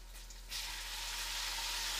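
Cured pork dropped into a small electric pot with celery bursts into a loud, steady sizzle that starts abruptly and keeps hissing close by.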